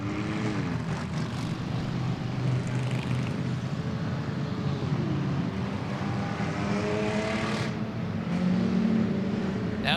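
Race cars in an enduro at Estevan Motor Speedway drone past on a drying track, engines roaring steadily from a moderate distance as they exit a corner onto the front straightaway, with a couple of sharper surges near the end.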